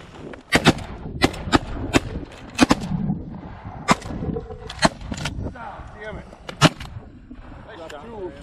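Shotgun blasts ring out on a Minnesota mallard duck hunt, a dozen or so sharp cracks in an irregular volley, some close and loud, mixed with excited shouting from several hunters.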